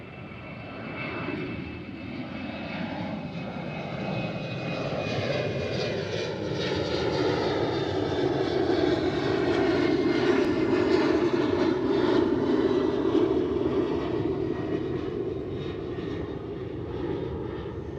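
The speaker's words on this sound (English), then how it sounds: "that KLM City Hopper has taken off right now." A KLM City Hopper airliner takes off at Amsterdam Schiphol, its engine roar building steadily and holding loud and continuous for the whole stretch, with no voices.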